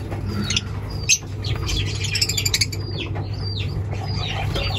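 A lovebird hen in a breeding cage flaps its wings in a quick burst and gives sharp squawks and chirps at close range, with further rustling and calls throughout.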